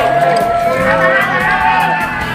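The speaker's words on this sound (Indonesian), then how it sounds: "Ini tepuk tangan dulu" A crowd of schoolchildren at an outdoor school activity cheers and shouts together, a loud, continuous mix of young voices with whoops, while clapping is not clearly distinct.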